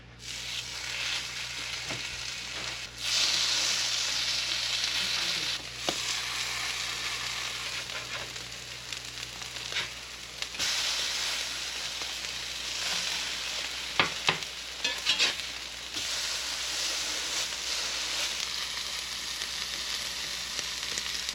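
Gamebird fritter patties fry in a pan with a steady, bright crackling sizzle throughout, some louder spits and a few soft scraping or handling knocks, no voices.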